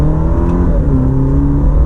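A 2021 Alfa Romeo Stelvio Sprint accelerates hard in first gear, its engine note rising in pitch as it revs, heard loud and close from inside the cabin with no talking.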